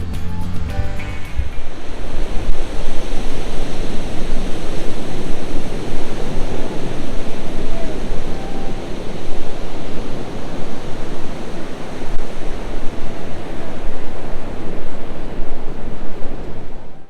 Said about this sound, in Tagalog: Naririnig mo yung puro tunog lang ng dagat.